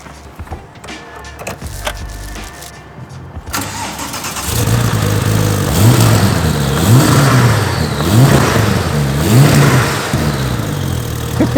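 Sportec SPR1 R sports car with a roll cage: a few quiet clicks and rustles, then the engine fires and settles into a loud, close idle broken by repeated sharp throttle blips and revs.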